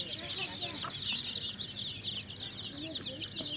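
Local free-range hens cluck and chatter continuously at close range on a small farm, with a steady hiss of ambient noise and no clear talking over them.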